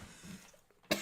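A single short cough, close and sharp, near the end of a faint, quiet stretch of room tone.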